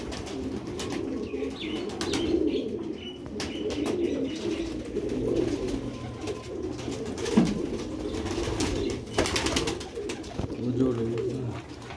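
Sialkoti black-necked quail pigeon chicks coo repeatedly at close range, soft low throaty calls with occasional wing flutters and rustling, while someone talks throughout.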